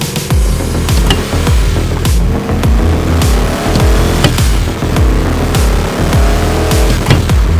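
A Porsche 911 fitted with a rear-mounted LS3 V8 drives along, its loud, close engine drone carrying a steady run of regular rhythmic thumps throughout, with no talking.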